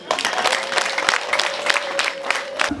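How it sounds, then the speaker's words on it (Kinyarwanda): Rhythmic crowd clapping at an RPF Inkotanyi political rally in Musanze, steady and energetic, with regular beats and a faint sustained tone running underneath. "reka tumwongerera amashyi."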